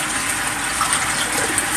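Water is poured into a cooking pot while salt goes into a dish, a steady gushing, splashing pour running close and continuous for the whole stretch.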